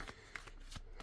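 Tarot cards are shuffled at close range during a reading, a quick, soft, papery riffle with light rhythmic flicks, faint and brief in a quiet room.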